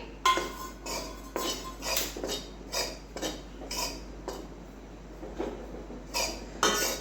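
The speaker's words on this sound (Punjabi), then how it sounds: "ਕੜਾਹੀ ਦੇ ਵਿੱਚ ਜਿਹੜਾ ਹੈਗਾ ਬੇਸਣ ਪਾ ਲਾਂਗੇ ਬੇਸਣ ਨੂੰ ਥੋੜਾ ਥੋੜੀ ਦੇਰ ਜਿਹੜਾ ਅਸੀਂ ਭੁੰਨ ਲਵਾਂਗੇ" A metal spatula scrapes and clinks against a wok in repeated strokes while gram flour roasts over a low flame, an irregular rhythm of stirring sounds close up, with no talking.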